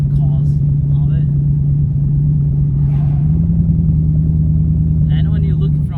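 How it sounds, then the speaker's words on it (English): A Corvette engine idling rough and misfiring, a loud, uneven low rumble that holds steady throughout while someone talks over it. "Man, why this car is running like crap like this? It seems to me it's running like in 2 cylinders."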